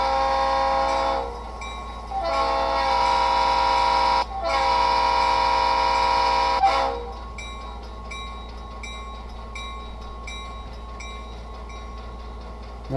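Sound decoder in an HO scale model locomotive playing train effects through a small speaker: sustained horn or whistle blasts with a brief break, then a quieter steady rumble, all fairly loud with no talking.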